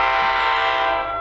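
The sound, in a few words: commuter train arriving at station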